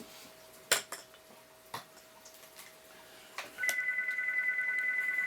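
A telephone starts ringing partway through with a steady, pulsing electronic trill, after a few sharp clicks and light clanks from handling a guitar effects pedal on a bench.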